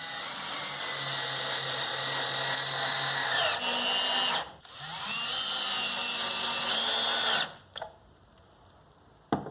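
A power drill whines steadily as it drives pocket hole screws into wood, its pitch rising as each one seats, with a brief pause and a short final burst.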